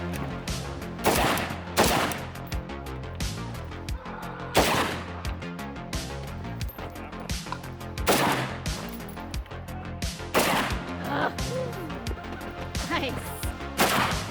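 An AK-Niner 5.56 rifle fires repeatedly on a shooting course, loud sharp cracks at irregular intervals, some in quick pairs, over outdoor background noise, with a voice talking faintly in between.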